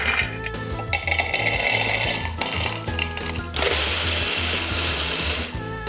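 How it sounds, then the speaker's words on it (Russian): A loud blender whirs steadily, its motor grinding hard as it chops through hazelnuts, shifting pitch midway, with faint music in the background. "И теперь фундук нужно будет измельчить в блендере."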